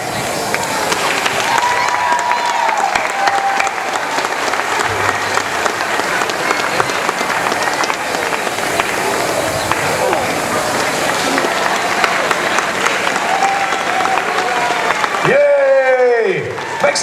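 A large audience at a March of Dimes charity event gives sustained loud applause and cheering that fills the whole stretch. Near the end a voice rises over the clapping.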